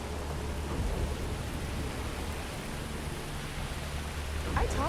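A Starfield downpour gives a continuous rain hiss over a deep low rumble that suggests distant thunder, with a brief sharper crackle near the end and no talking.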